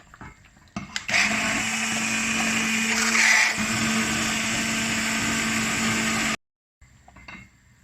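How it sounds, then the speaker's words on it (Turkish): A blender whirs loudly and continuously for about five seconds puréeing cooked plums with their skins, then cuts off abruptly into quiet room noise. "Şimdi bunları ufaktan bir blenderdan geçireceğiz"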